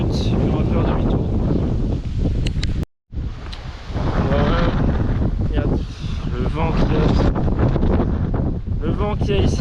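Strong seaside wind at Canet-en-Roussillon buffets the microphone in loud, roaring gusts. One brief dropout interrupts it, and a voice is faintly audible under the rush.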